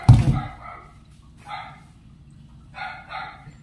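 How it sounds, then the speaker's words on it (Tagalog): A dog barks in several short bursts at home, a near pair of yaps then single and double barks spaced by quiet gaps, after an opening thump. "Maingay yung aso ko na sila."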